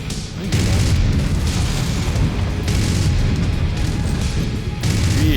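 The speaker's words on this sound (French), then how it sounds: "Lui, il tire dans la roche hein, quand même." A giant mech fires into rock during a MechWarrior 5 battle, with loud, sustained explosive rumbling and heavy booms that swell and cut in bursts, alone without talk.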